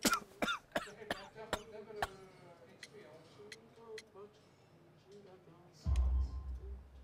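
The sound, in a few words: coughing, from a video game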